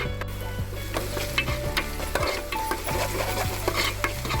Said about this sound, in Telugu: ఉల్లిపాయలు దోరగా ఎగే వరకు వేపుకోవాలి